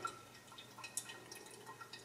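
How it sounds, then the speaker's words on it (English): Water draining through an Origami coffee dripper during a first pour-over brew, with faint, scattered drips and small splashes over low steady background noise, no talking. "And the water's almost drained out."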